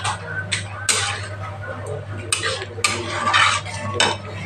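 Carrot halwa being stirred in a pan, the carrots fully cooked down in a litre of milk: repeated scraping and clinking of a spoon against the pan in irregular bursts, close and moderately loud over a steady low hum.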